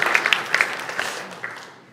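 Applause from a church congregation, a crowd of hands clapping briskly at first, then thinning and fading away toward the end.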